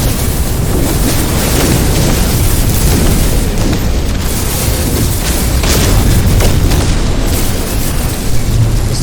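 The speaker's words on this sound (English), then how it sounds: "I'm gonna claim that this is the most powerful weapon in No Man's Sky." Heavy, continuous rumbling blasts from a powerful weapon firing explosive rounds in the space game No Man's Sky, loud and dense with deep booms and a roaring wash of noise throughout, no voices.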